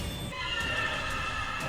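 A horse neighs in an anime episode, a loud, close, shrill whinny held for nearly two seconds over a busy soundtrack.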